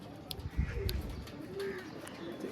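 Pigeons of fancy breeds such as Andhra, Kaludana, Madras and Giribaz coo close by, with low, throaty burbling swelling in short rounds over a faint background murmur.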